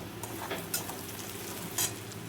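Spice paste loosened with a little water and fried in oil for a Bombay duck jhuri, a constant crackling sizzle broken by a few brief scraping bursts of stirring.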